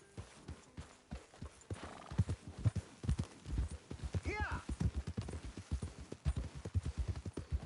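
Horse hooves clip-clop in a steady walking rhythm in Red Dead Redemption 2, with a neigh partway through and quiet background sounds around them.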